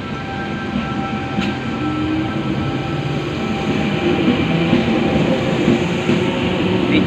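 A Blue Mountains train rolls past at steady volume, a continuous heavy rumble of wheels on rail with faint metallic ringing overhead, swelling slightly as it passes close by.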